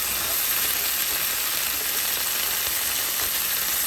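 Asparagus cooking in butter and garlic in a pan, a loud, steady, crackling sizzle with no breaks and no voices.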